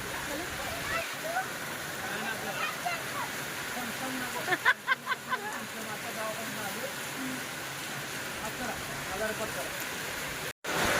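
Steady rainwater streams and splashes from a tin roof gutter in a continuous wash, with a few brief tapping knocks partway through and a voice faintly underneath.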